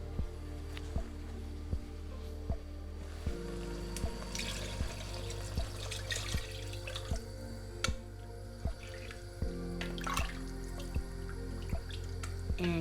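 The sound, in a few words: water being added to tomato sauce for meatballs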